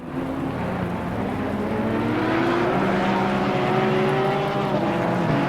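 GT3 race cars in Assetto Corsa Competizione, with a Ferrari among them, working through a chicane: a loud, sustained engine drone with rising and falling revving tones from several cars close together.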